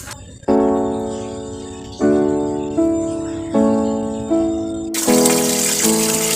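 Tap water pours into a bucket with a rising, resonant gurgle that restarts in several bursts as the fill level climbs, close and clear with no talk, during morning chores at home.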